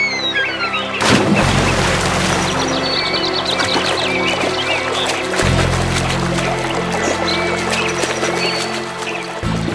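A horse loaded with cotton-filled sacks tumbles into a river: a sudden loud splash near the start, followed by steady churning, sloshing water and a low rumble that continues to the end.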